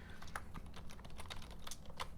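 Keys clatter on a computer keyboard during Z80 assembly coding, a quiet, steady run of irregular taps with no talking.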